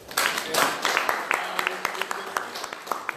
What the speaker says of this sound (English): So round of applause for Adoniss.